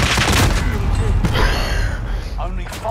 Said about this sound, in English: Dude, they never stop shooting, bro.